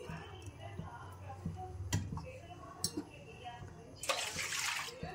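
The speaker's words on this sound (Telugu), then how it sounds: "ఈ గ్లాస్తో 3 గ్లాసులు వాటర్ వేసుకుందామండి" Water poured from a glass into a pot on a stove, a brief gushing splash near the end after scattered small clicks and taps, close and quiet.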